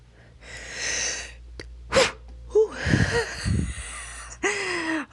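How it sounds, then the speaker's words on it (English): Several stifled, held-back sneeze attempts, with sharp sniffs, strained breaths and choked bursts cut off before a full sneeze, close and fairly loud with short pauses between them. "That didn't count as a sneeze, did it?"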